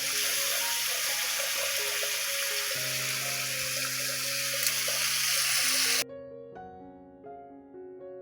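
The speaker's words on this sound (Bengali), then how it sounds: "উস্তাটি ভাজা ভাজা হবে। আর আলু দিয়ে দিলাম।" Sliced bitter gourd and potatoes frying in hot oil in a pan, a steady loud sizzle that cuts off abruptly toward the end, leaving a quieter bubbling with faint tonal hum.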